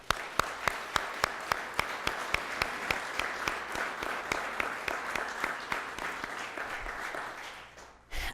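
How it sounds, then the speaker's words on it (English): Audience at a city budget presentation claps, with a few sharp individual claps standing out in a regular rhythm over softer scattered applause that gradually thins and fades. "Let's please give them a round of applause."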